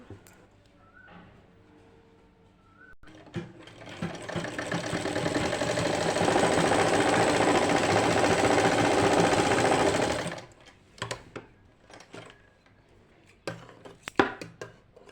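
A sewing machine stitches pleats on a lined kameez, running loud and steady for about seven seconds, with quieter handling clicks and rustles of cloth before and after.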